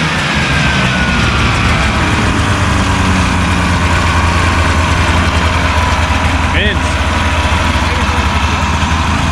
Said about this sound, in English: She's idling at like 1800, right where you want it.